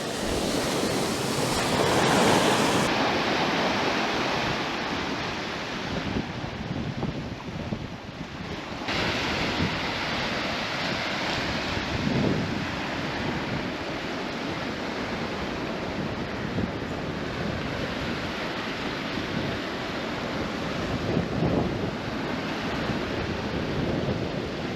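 Sea waves wash onto a beach beneath fossil-bearing undercliffs while strong wind buffets the microphone, a loud, continuous roar of surf and gusts with no voices.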